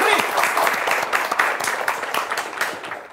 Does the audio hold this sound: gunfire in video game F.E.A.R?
no